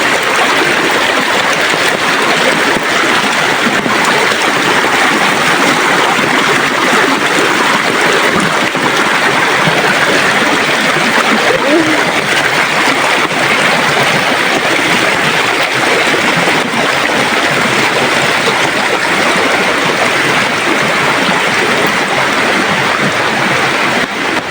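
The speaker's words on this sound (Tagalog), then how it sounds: "Pagka malakas ang agos." Strong current rushing at the foot of a mountain waterfall, a loud, dense and steady roar of churning water that continues unbroken throughout.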